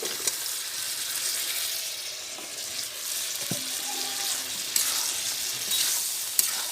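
Jackfruit and potato pieces fry in a spiced masala while being stirred, a steady close sizzle with occasional scraping knocks of the spatula against the pan.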